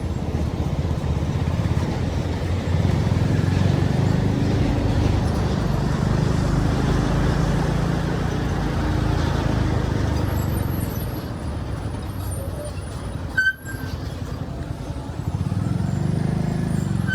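A vehicle driving along the Bhiwandi road toward Nashik, with a continuous engine and road rumble and steady wind noise throughout, briefly dipping and jolting partway through.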